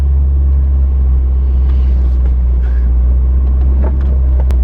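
A K30 truck with a cold air intake and freshly overhauled suspension and steering drives on an overcast day, its engine giving a steady, loud, low rumble throughout with no talking.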